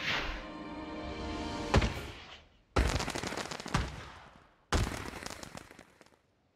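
Fireworks bursting in the Planet Coaster theme-park game: three loud explosive booms, each with a crackling, rumbling tail that fades out, spaced a second or two apart with no talking.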